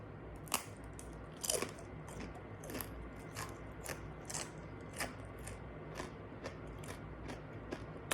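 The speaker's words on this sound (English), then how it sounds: "So I'm just gonna have a bite." Someone bites and chews a crunchy Bengal gram snack seasoned with butter, ginger and curry leaves, giving a series of quiet, close crunches spaced roughly every half second to second.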